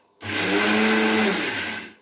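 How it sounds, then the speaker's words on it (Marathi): A mixer grinder grinding peanuts starts up abruptly and whirs loudly for under two seconds, a harsh steady grinding roar that winds down at the end. "मिक्सरमध्ये शेंगदाणे टाकायचे आहे आणि त्याला बारीक करून घ्यायचं आहे"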